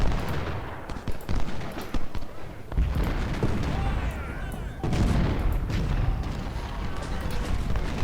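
Musket volleys crackle and boom across an American Civil War battlefield in the Ultimate General: Civil War video game. Dense, rolling gunfire bursts in waves with a continuous battle din beneath.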